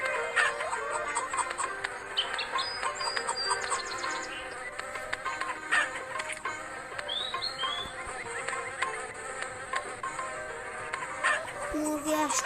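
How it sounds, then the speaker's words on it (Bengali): Buzzing bees in a mobile Meena video game, a continuous insect-like drone over layered game music and effects, moderately loud. "আবার মৌমাছি আসলো।"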